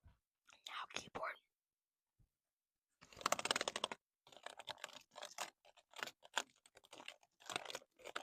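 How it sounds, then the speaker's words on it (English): A computer keyboard tapped close to the microphone for ASMR, bursts of quick clicking keystrokes and rattling in irregular clusters, mixed with soft whispering. "Now keyboard."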